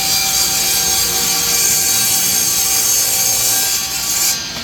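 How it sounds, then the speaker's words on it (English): Steady, loud scraping strokes of a handsaw cutting a wooden box lid to size, continuous and close with no talking, fading slightly at the end. "we're going to cut this top to fit the front of this thing"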